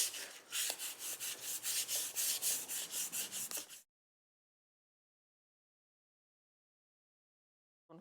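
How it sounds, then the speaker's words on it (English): Dried putty being sanded on a piece of vintage furniture under restoration, a steady run of close, rhythmic back-and-forth rubbing strokes that stops abruptly partway, leaving silence. "start to sand it"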